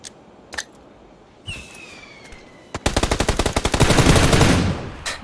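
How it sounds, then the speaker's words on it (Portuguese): Sustained automatic machine gun fire in the battle royale game PUBG, a long loud rapid burst of shots preceded by a few isolated single gunshots, close and alone without talk. "Começou a atirar, ele virou pra ti."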